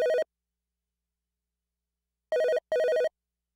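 An old-style telephone bell rings in short electronic bursts: one ring at the start, then after a long silence two more rings close together, clean and fairly loud against dead quiet.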